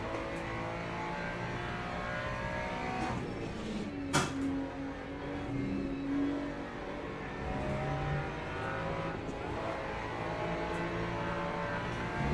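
A steady engine drone from a Porsche race car being chased around the Spa circuit in Le Mans Ultimate, a constant mid-level hum with a brief sharp knock partway through and no talking.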